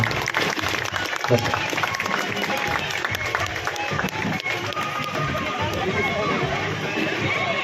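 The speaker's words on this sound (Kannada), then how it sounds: "ಅವರ ಚಪ್ಪಾಳೆ ಮುಖೇನವಾಗಿ ತುಂಬುಗೈದ ಸ್ವಾಗತವನ್ನ ಕೋರೋಣ" Sustained, loud crowd applause welcomes a guest at a village gathering, steady throughout, with voices and chatter mixed in beneath the clapping.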